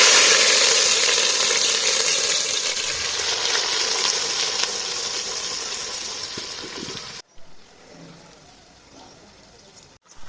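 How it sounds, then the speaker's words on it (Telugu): Pieces of fish frying in hot oil with fenugreek seeds and cumin for a Telangana village-style fish curry, a loud, dense sizzle that tapers slightly before cutting off abruptly into near quiet. "గింజలు గోలంగానే ముక్కలు వేసుకుందాం"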